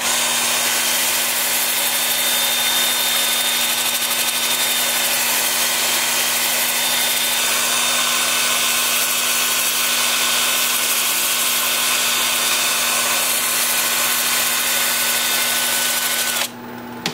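Sandpaper rubs against a wooden pear on a wood lathe turning in reverse at about 350 rpm, a loud continuous gritty hiss over a steady motor hum that drops away abruptly at the end.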